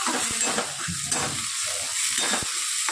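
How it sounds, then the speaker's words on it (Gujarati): Chopped tomatoes hitting sautéed onions in a hot pan for sambar, a loud continuous sizzle and frying crackle with a few stirring scrapes, no talking. "સરસ ડુંગળી આપણે શેકાઈ ગઈ છે, એના અંદર ટામેટાં નાખી દઈએ."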